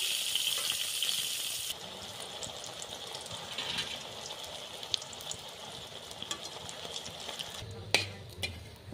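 Eggplant slices frying in oil in a pan, a steady crackling sizzle with occasional stirring clicks and light scrapes, close and moderately loud, with a brief clatter near the end.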